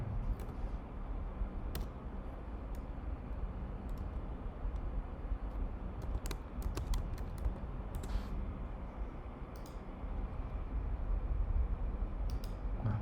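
Typing a search keyword on a computer keyboard: a run of soft close key clicks over a steady low hum, with a few sharper taps standing out, no talking.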